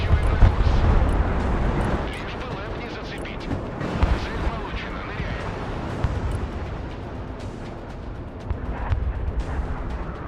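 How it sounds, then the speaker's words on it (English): Bombs exploding in Broken Arrow, a loud run of deep booms and rumbling blasts with crackling bursts, heard under a voice. "Oh, nice bombs as well."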